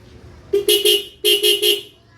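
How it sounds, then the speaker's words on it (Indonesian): A newly installed dual vehicle horn setup honks loudly in two bursts of three quick toots each, near and clear, with a brief pause between groups. "Ini sudah dipasang dua klakson, tinggal nanti dirapikan saja ya kabelnya."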